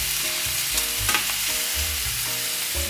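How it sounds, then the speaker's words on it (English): A ribeye steak sears loudly in a hot pan, a dense, steady sizzle running throughout with faint scraping in the middle. "I'm gonna leave these on for a minute on each side, maybe a minute and a half, but I want them really, really seared"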